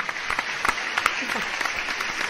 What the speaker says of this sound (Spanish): quiero dedicar un fuerte aplauso a todos los redactores de medios de comunicación